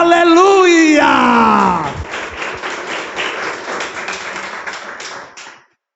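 A church congregation claps and cheers in praise, preceded by a loud voice calling out over the room; the clapping continues as a dense, moderately close patter before cutting off abruptly near the end.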